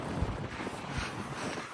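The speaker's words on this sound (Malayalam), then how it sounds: "നല്ല കാറ്റുണ്ട്, പറയുന്ന കേൾക്കുന്നുണ്ടോ ആവും." Strong wind buffets the microphone outdoors on a sunny day, producing a loud, rumbling low roar with uneven gusty thumps and no speech.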